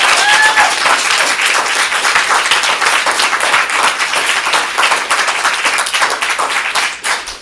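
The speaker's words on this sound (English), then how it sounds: "Can we hear a big round of applause again for everyone?" A storytelling showcase audience at Comedy Sports gives a big, sustained round of applause, dense clapping holding steady and loud for the whole stretch with faint crowd noise mixed in.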